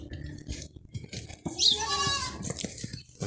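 A young Anglo-Nubian goat kid gives one clear, close bleat over quiet rustling and shuffling noises.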